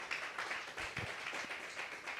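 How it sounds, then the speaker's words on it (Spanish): A church congregation claps for Jesus during a Spanish-language worship service, a steady wash of many hands applauding together at moderate distance, with no talk over it. "Vean de fuertes palmas al Rey de Reyes y al Señor de Señores"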